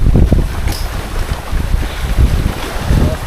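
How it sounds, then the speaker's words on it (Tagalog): Strong wind buffets a small fishing boat at sea in worsening weather, a constant rough rumble of wind on the microphone mixed with water and hull noise, steady and loud throughout. "Ang lakas ng hangin."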